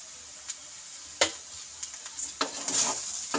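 A spoon scrapes and taps through flattened rice pulao with sugar in a pan. The light scraping and clicking is scattered and close, over a soft sizzle.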